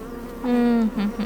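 Honeybees buzzing at a beehive, a close droning hum that swells louder midway and wavers in pitch as individual bees pass, lasting about a second.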